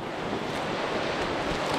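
Ocean waves at Ocean Beach, San Francisco, a dense continuous roar of surf with wind noise, close and loud, no talk.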